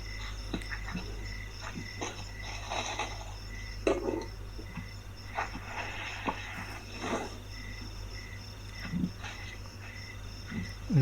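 Night insects and frogs in a forest at a solo campsite make a steady high chirring with scattered croaks and calls, with faint rustles and soft whispering nearby.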